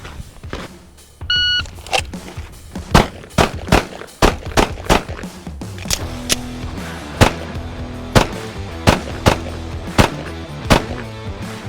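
Pistol shots ring out during a timed tactics drill with movement and reloads, loud sharp cracks at an irregular then steady pace, led by a shot-timer beep.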